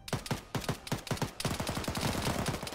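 Rapid automatic gunfire in the military shooter Arma 3, a steady rattling string of close, sharp shots that quickens into a dense continuous burst.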